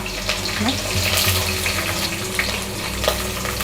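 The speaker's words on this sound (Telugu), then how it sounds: "చూడండి, మసాలాలు ఇవి ఇవన్నీ వేసుకుంటున్నాను నేను. ఉల్లిపాయలు వేసుకున్నాం" Sliced onions and whole garam masala fry in hot oil with a loud, steady sizzle and crackle, heard close up with brief low voice sounds in the background.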